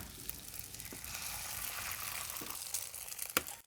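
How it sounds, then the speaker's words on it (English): Eggs sizzle in a hot skillet of crispy sweet potato, a dense, close frying hiss running throughout with a few sharp clicks and taps near the end. "Now we're gonna crack the eggs in the center."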